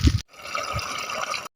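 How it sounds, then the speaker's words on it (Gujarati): Water gushing from a hose pipe at a farm field, a steady close rush of running water lasting just over a second, preceded by a brief low knock. "ફટાફટ પાણી ભરી લઈએ"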